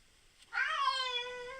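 A tomcat yowls on meeting another cat: after a brief near-silence, one loud, drawn-out, wavering cry that rises and then holds steady as a long moan, with nothing else heard.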